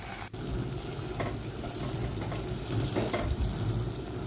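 Mutton masala with fresh coriander sizzles and sautés in hot oil, a steady crackling fry with stirring scrapes throughout, close and clear, no voices.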